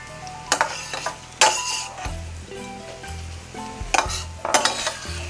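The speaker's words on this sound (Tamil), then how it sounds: "உளுத்தம் பருப்பு வறுபட ஆரம்பித்த உடனே தனியா விதைகளை போட்டு வறுத்துக்கலாம்" Coriander seeds and urad dal dry-roast in a pan, stirred with a utensil that scrapes and clinks against the metal in repeated bursts over a low crackle, close and fairly loud.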